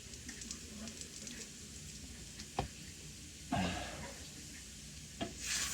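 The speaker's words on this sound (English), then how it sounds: "Keep on stirring it here." A spoon stirs hamburger and potatoes frying in a skillet, producing a steady low sizzle with a few sharp scraping knocks against the pan. A soft voice speaks briefly over the cooking.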